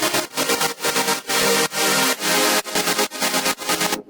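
A music track run through a Gross Beat 1-to-4 bit BT gate preset with sidechain chops into rapid rhythmic pulses, full-range bursts cutting in and out in a tight repeating pattern before stopping abruptly at the end.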